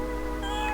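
A cat in a Roblox game meows once in a short, drawn-out call with a bright rising tone over a steady low background hum.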